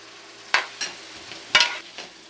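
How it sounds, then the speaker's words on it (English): Codfish, bacon and ackee are stirred in a simmering pan: a few soft scraping stirs and brief bursts of sizzle over a quiet low background. "now is the time to put the codfish and the bacon and the ackee and stir them all in"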